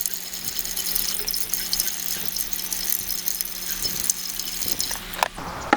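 Water poured steadily from a pitcher into the coolant system of a Procharged Dodge Scat Pack, a continuous splashing fill with faint rattles, ending with a few brief knocks.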